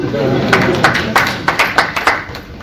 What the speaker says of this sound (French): Applaudissez pour le côté qui n'a pas dit.